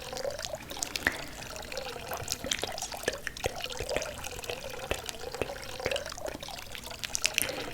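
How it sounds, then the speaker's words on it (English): Water trickling and splashing like a small stream or mini waterfall, a close, continuous babble with irregular drips and gurgles throughout. "Reminds me of being in nature by the stream. A little mini little waterfall."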